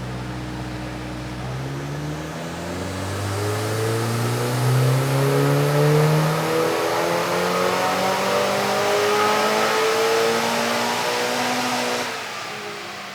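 A turbocharged or supercharged car engine revs at full throttle on a dyno, its pitch climbing steadily through a long, loud, close pull before cutting off near the end.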